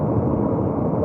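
A jet aircraft climbs out overhead after takeoff near Heathrow Airport, a loud, steady broadband roar that fills the brief moment without letup.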